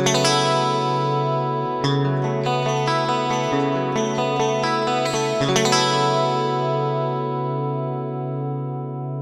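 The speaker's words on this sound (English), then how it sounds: "Let's add some dimension chorus and we get this amazing clean sound." A clean electric guitar through a Fractal FM9 dimension chorus effect, lush and shimmering, plays ringing chords and quick picked notes, sustaining smoothly throughout with no voices.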